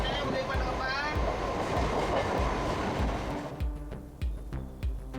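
A crowded early-morning commuter train in Chennai, India rolls along its rails with a loud rushing roar. Rhythmic clickety-clack wheel beats stand out more clearly as the wind noise drops near the end.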